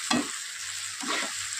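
A spoon scrapes and stirs soya chilli in a frying pan over a low gas flame, three short stirring strokes over a soft, steady sizzle, close and fairly quiet.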